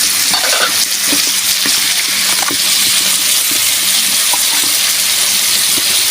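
Crab frying in a pan gives a loud, continuous hissing sizzle with scattered pops and stirring clicks, close and unbroken throughout.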